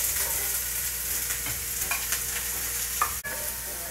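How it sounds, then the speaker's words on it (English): Medium-diced sweet onion sautés in olive oil over medium heat, a steady near sizzle with occasional soft stirring scrapes and one sharp knock near the end. "we'll saute this on kind of a medium heat for about 3 or 4 minutes"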